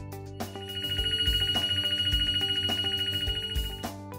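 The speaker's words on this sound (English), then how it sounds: "When the baking time has counted down to 0, the baking is finished and you will hear an audible signal." Sveba-Dahlen rotating rack oven touch panel sounding its bake-finished alert, a rapid repeating electronic warble like a phone ringer, fairly faint and held for about three seconds.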